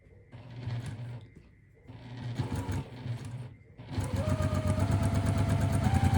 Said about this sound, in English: And I am sewing from corner to corner.